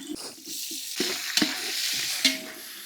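Red tomatoes hit hot oil in a pot for village-style country chicken biryani, a steady close sizzle broken by several scraping stirs of a ladle against the metal.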